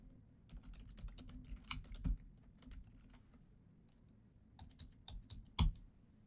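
Keys clatter on a computer keyboard as someone fills in a form, in irregular bursts of soft taps with short pauses and a couple of sharper clicks, close and fairly quiet.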